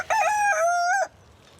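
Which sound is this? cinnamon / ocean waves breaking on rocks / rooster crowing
rooster crowing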